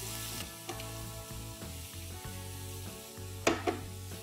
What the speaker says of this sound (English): Just saute the onions for a minute.